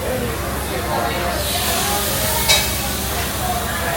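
Beef bulgogi sizzling on a grill at an all-you-can-eat Korean BBQ restaurant in Riverside, a continuous frying hiss heard under restaurant ambience with talk nearby.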